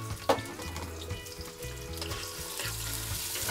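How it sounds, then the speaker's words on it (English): Onion frying in a little oil in a pot, a soft crackling sizzle with faint clinks and scraping, quiet and close with no talking. "I'm gonna fry up the onion."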